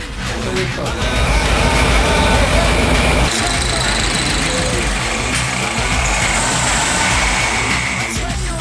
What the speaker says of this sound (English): it was all hands on deck for the engine's first start